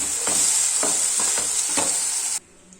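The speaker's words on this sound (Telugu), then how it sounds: "ఇప్పుడు మనం ముందుగా ఉడికించుకున్న బాంబినోని ఇందులో యాడ్ చేసుకోవాలి. చక్కగా కలిపేసుకోవాలి." Cooked bambino vermicelli stirred into upma in a pan, giving a steady hiss with several distinct scraping strokes of a spoon, until it stops abruptly.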